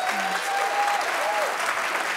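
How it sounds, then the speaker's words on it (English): An audience claps for guest authors at a book event kickoff evening, continuous even applause with a faint whistle-like tone drifting over it and no clear speech. "could we actually have another round of applause for our amazing guest authors tonight?"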